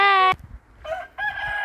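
A rooster crows loudly and close by at a chicken coop on a backyard farm in Canada, one full crow cut short, then clucking and calls from other chickens follow after a brief pause.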